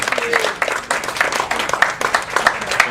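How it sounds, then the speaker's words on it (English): A small group at a heart-health nutrition workshop claps for a patient named Ingrid Chen, a short burst of uneven, close hand claps with some chatter underneath. "Everybody give her a big round of applause."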